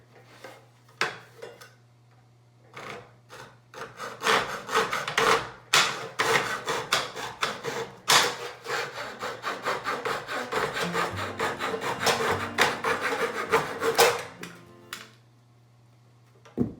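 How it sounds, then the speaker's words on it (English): A coping saw cuts along the edge of a wooden baseboard in steady rasping back-and-forth strokes, close and fairly loud, with quiet handling noises before and after. "Next, I will take a coping saw and carefully cope along the edge where the paint touches the miter."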